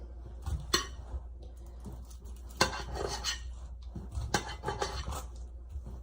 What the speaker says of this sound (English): So we're gonna cut our sausage up and just slice it like so.